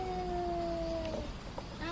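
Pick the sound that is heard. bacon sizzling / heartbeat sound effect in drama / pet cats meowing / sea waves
pet cats meowing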